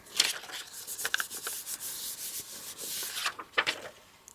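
A hand rubs over a card front to pick up ink during shaker card making, giving a soft, close, dry rubbing and brushing sound in several uneven strokes, with a few sharper scuffs near the end.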